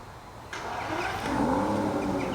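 A car drives past in an Aston Martin car park, its engine note rising and swelling as it goes by, moderately close, with steady background noise and no talk.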